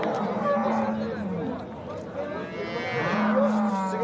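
A cow moos loudly and close by at a busy livestock market, giving two long lowing calls, with people chattering in the background.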